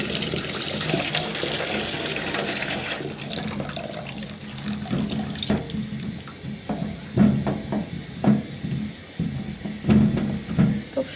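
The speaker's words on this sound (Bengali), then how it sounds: "পেঁয়াজটা ধুয়ে নিচ্ছি।" Tap water runs steadily over an onion being washed at a sink, a continuous rushing stream that eases partway through into splashing and intermittent drips and knocks as the onion is handled under the flow, close and without speech.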